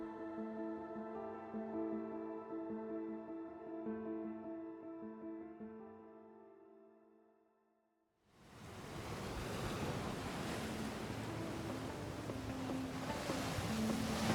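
Atlantic Ocean waves on the coast at Essaouira, Morocco, entering as a broad hissing wash of surf and wind after a fading musical passage, then holding loud and continuous to the end.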